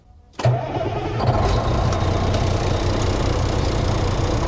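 A tractor trailer truck's engine fires up with a sudden burst, then settles into a steady, rumbling idle that continues strong and close while the air system builds pressure.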